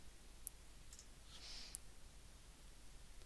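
A computer mouse gives a couple of faint, sharp clicks in a quiet room, brief and isolated with no talk.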